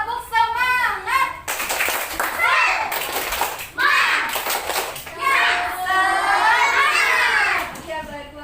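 Elementary schoolchildren in an Indonesian classroom do a rhythmic spirit clap. Bursts of patterned group clapping alternate with lively chanting and chatter from the children, all close and loud.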